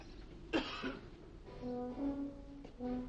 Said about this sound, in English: What's that cough about?